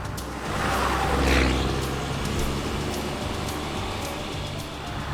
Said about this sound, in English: Oh my God, it's working. I hear the turbos.